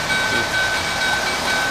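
An old-style scale model train runs on its track, giving a steady, close-up mechanical rumble and whir that holds evenly through the short stretch without any talking.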